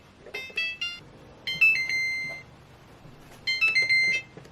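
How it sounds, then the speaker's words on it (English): A kitchen timer is set for banana bread, giving three clusters of bright electronic beeps: quick short chirps, then a longer held tone, then another rapid burst. The beeps are close and clear over quiet background. "So let's go ahead and set our timer for an hour now."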